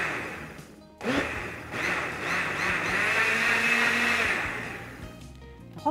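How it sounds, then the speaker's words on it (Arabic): A blender mixing flour and milk starts up and whirs loudly for several seconds, its motor pitch shifting as it mixes, then winds down. "نعمله في الخلاط اسهل واحسن"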